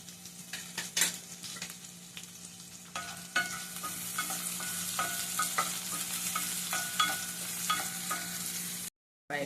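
Onions frying with salt in a pan, a steady close sizzle with repeated spatula scrapes and taps as they are stirred, ending in a brief cut to silence.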